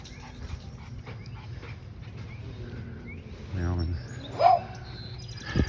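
A dog in Lambert Branch Park in Granbury, Texas gives short whimpering and whining calls in the middle of the stretch, over quiet outdoor background noise and low voices.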